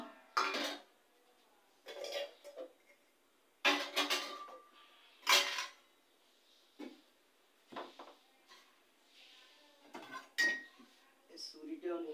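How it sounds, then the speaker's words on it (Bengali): A pressure cooker lid and other metal kitchenware clank and clink in a home kitchen, in a series of quiet, separate bursts with short pauses between them. "এখানে ওই যে প্রেশার কুকারের ঢাকনাটা"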